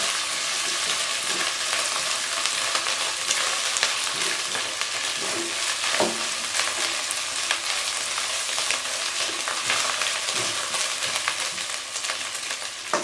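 A loud, dense sizzle of ingredients frying in a pan for chicken gravy continues without a break, with faint stirring scrapes and no voices.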